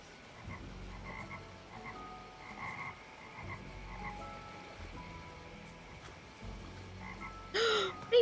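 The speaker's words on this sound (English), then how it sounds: "Baby frogs! Baby frogs!" Frogs croak steadily through an ambient jungle soundscape in the video game Beasts of Maravilla Island, with layered repeated calls and a brighter burst of sound near the end.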